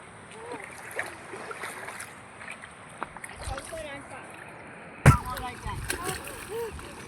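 Water splashes and sloshes as people bathe in open water where clothes are being washed, with a sharp splash near the middle over steady chatter and voices throughout.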